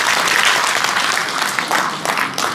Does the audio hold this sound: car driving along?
no